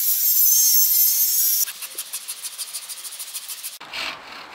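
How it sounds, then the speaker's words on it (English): A hand saw cuts a timber joist during a loft conversion. After a sustained hiss, about a dozen quick, even back-and-forth saw strokes rasp through the wood, ending with a short clatter. "This cut on this joist is actually slightly different to the cut that I was showing you previously."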